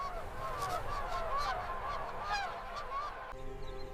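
Geese or similar fowl honking repeatedly across the African plains at dusk, a steady overlapping chorus of calls at moderate distance that continues throughout, ending with a shift to a lower droning background.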